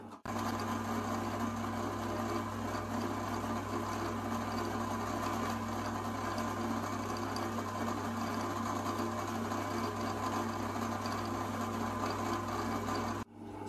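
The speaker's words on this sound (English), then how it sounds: "So that's all four screw holes countersunk" A countersink tool cuts screw holes into a machined part for a Mosquito Effector V9 on an Anycubic Predator printer, heard as a steady close machine whir with a constant low hum lasting throughout and no talk.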